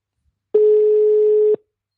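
Single steady telephone tone on a radio show's phone line while a call is being reconnected, loud and clean, lasting about one second with abrupt start and stop, no talking.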